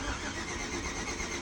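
A car engine cranks and fires up on a vehicle with an AFM/DOD delete and throttle adjustments, a dense, steady rumble filling the short stretch at close range with no voices.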